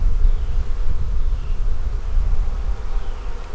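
Honey bees swarm at a hive being moved into a bee barn, making a dense, continuous low buzz that stays loud and close throughout, with no voices.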